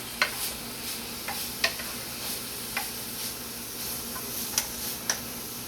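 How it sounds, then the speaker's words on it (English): Vegetables including broccoli stirred in an oiled pan for pasta primavera: a steady low sizzle with occasional sharp clicks and scrapes of a utensil against the pan, close and moderately quiet. "And you just keep stirring it up."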